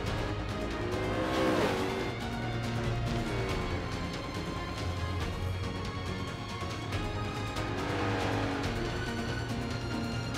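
A 2011 Koenigsegg Agera racing in Forza Motorsport at Circuit de São Paulo, its engine roaring steadily and loudly with rising and falling revs through gear changes and brief tire squeal.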